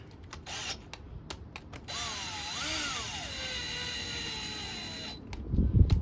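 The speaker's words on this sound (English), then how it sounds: "Take note that I'm not using an impact on this. I'm using just a drill with an attachment." A power drill with a socket attachment whirs for a few seconds, its pitch rising and dipping as it tightens a bolt on a Yamaha SX Viper 700 engine head, preceded and followed by short clicks and taps.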